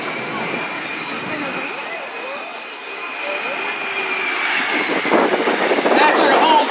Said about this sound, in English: From the left, the assault landing C-17 Globemaster III.